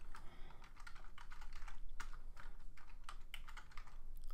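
Rapid keystrokes on a computer keyboard as an admin password is entered while configuring a VM-Series firewall, an irregular run of close, crisp clicks with no talking.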